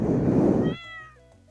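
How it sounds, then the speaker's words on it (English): A stray cat in the Stardew Valley video game gives a single drawn-out meow, clear and close, following a burst of louder game sound. "Aww, poor little stray cat."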